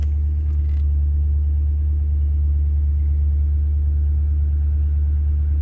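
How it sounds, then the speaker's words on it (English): A high-mileage car engine, about 235,000 miles, idles on a cold day, a loud, steady low rumble with no talk over it. "the longer it takes for that idle to come down and stabilize at about 700 RPM"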